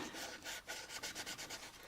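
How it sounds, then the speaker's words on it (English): Sandpaper is drawn by hand over a painted plastic model kit of the U.S.S. Enterprise, AMT kit 6676, in quick, soft, rhythmic strokes, dry sanding, a faint raspy scrubbing with no talk. "And you notice how I'm dry sanding this."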